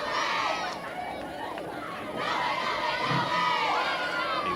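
Spectators at a 4A quarterfinal state high school softball game, a steady roar of crowd chatter with high-pitched cheering and shouting from the stands, continuous and fairly loud.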